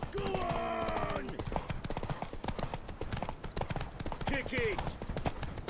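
Horse hooves gallop in a race in The Witcher 3 video game, a fast, steady clip-clop close up that runs throughout, with a voice shouting briefly over it.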